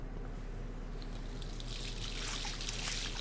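A steady stream of water pours and trickles in Life is Strange, quiet and continuous, with a brighter splashing rush building after the first second and no voices.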